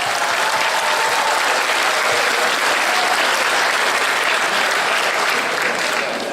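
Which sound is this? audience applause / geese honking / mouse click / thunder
audience applause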